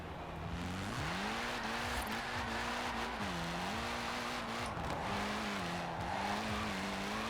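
Ford Puma rally car in Forza Horizon 4 revving hard and steadily, engine pitch climbing and dipping through gear changes with faint tyre noise, loud and continuous with no talking.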